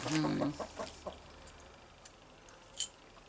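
A short burst of clucking from a rooster up close, a few quick clucks that trail off into quiet with a faint click later.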